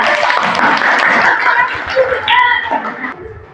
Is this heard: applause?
yes